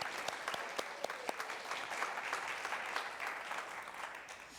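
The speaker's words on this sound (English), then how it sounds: "Can we please just give her applause and thank you." A lecture audience gives warm applause of many overlapping claps, fairly dense and steady, with a few sharper individual claps standing out near the start.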